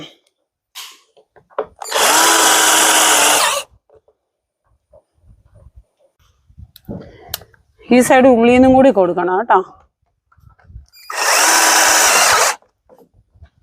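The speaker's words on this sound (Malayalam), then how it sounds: "ഇനി നമുക്ക് സ്ക്രൂ ഇട്ട് കൊടുക്കാം" A power drill drives screws while a rain gutter is fixed in place, with two loud, steady whirring bursts of about one and a half seconds each, close by. Someone speaks between the bursts.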